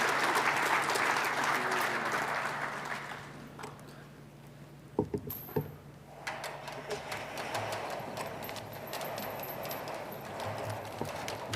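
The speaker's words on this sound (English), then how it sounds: "Big round of applause for the folks that will share Car of the Year with you." Audience applause at the 2023 Canadian Car of the Year award presentation, fairly faint clapping that thins out midway, a few sharp knocks near the podium, then clapping picks up again with a faint voice underneath.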